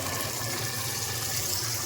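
Tap water running steadily into a blender jar while cooking a butter bean and egg kurma, a continuous close hiss and splash without pause.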